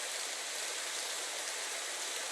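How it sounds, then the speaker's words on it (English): Steady rain pitter-patters in the video game Psychedelica of the Black Butterfly, an even, close hiss of falling drops with no voices. "That's the pitter-patter of the rain that happened when we were kids"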